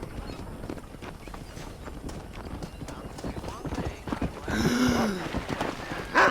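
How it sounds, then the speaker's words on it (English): A war horse's hooves clip-clop in quick trotting rhythm through Red Dead Redemption gameplay over wind and ambient noise, ending with a short horse whinny and snort. "Y aquí está el caballo de guerra"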